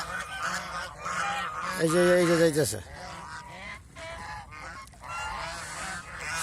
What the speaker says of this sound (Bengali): এই আর একটা ছেলে হাঁস